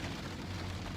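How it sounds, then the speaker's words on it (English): Hailstorm pounding a truck, a dense continuous drumming roar of stones on metal, loud and close with a low steady rumble underneath. "This is some of the biggest hail I've ever seen."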